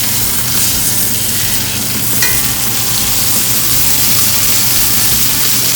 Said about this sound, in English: Sear the juices into the meat.